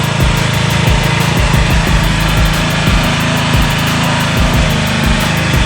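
A Mini 40 kids' dirt bike runs its small engine close by. The loud, buzzy putter holds steady throughout with slight fluctuations and no voices over it.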